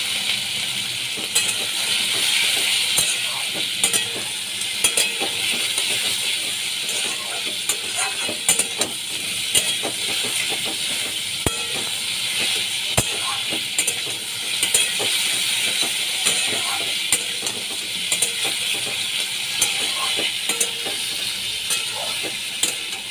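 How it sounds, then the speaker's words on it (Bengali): Hilsa fish seasoned with salt and turmeric fries in hot oil with a constant close sizzle, broken by small clicks and scrapes of stirring. "নুন হলুদ দিয়ে আমি ভালো করে ভেজে নিচ্ছি"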